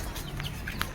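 Chickens clucking softly at a little distance in an urban yard, a few short clucks over steady outdoor background noise.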